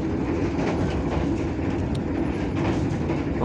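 Luxury passenger train with sleeper class rolling along the rails, a steady loud rumble of wheels and carriage noise heard from inside, continuous with faint clatter and no talk.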